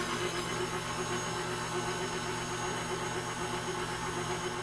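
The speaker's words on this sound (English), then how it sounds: "attach my dough hook for my KitchenAid here and knead this into a smooth and pliable dough" KitchenAid stand mixer with a dough hook kneading atta dough enriched with ghee, a steady close motor hum and whir running evenly throughout with no pauses.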